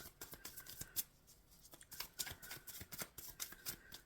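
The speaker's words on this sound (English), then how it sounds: "I am shuffling for the Gemini collective" Tarot cards are shuffled by hand in quick, quiet bursts of papery riffles and taps, close and soft, in uneven rhythm with short pauses.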